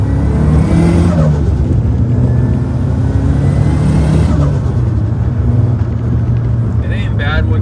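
A 400hp Nissan SR20 car engine revs loudly and close by, a sustained rough drone that rises and then settles, with a voice talking over it.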